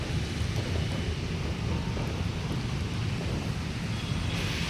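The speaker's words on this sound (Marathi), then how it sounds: "आणि सकाळपासून असाच रिमझिम पाऊस चालू आहे." Light drizzle falling steadily on a rainy morning, a continuous soft hiss of rain with some low rumble, no voices.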